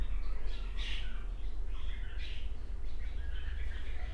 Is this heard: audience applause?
no